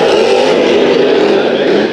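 A Race Saver sprint car runs a heat race at Bakersfield Speedway, a dense, loud engine roar that holds steady for the whole stretch, with no talking over it.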